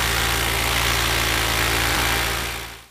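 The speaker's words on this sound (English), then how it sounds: "make sure that the engine runs good" A paramotor engine, freshly broken in, runs steadily at a close, loud, even idle with a constant low hum and vibration, then cuts off abruptly at the end.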